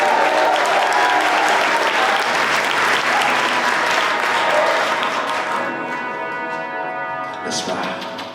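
A large crowd at a benefit concert for Jamaica applauds and cheers loudly and continuously, then the applause thins out toward the end.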